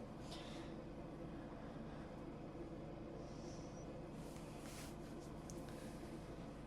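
In the video game SCR, a train rolls slowly into a seaside station with a continuous low rumble and hum, steady and fairly faint, with a few soft hisses near the end.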